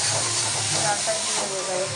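Dal hits a hot pan with a loud, steady, broad hiss of sizzling that holds evenly for the full two seconds.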